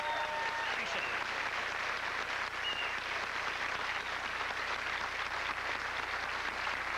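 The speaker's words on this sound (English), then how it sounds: "Let's have a round of applause for him." Studio audience applause at a 1998 PBS telethon for the Red Green Show, a steady wash of clapping throughout, with someone briefly speaking over it.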